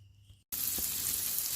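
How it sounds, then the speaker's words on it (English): Chanterelle and hedgehog mushrooms with garlic hit hot butter, bursting after a brief pause into a loud, steady, close sizzle that holds without talk. "So this is one of the ways that we cook chanterelles and hedgehog mushrooms. Butter, salt and pepper, and some garlic."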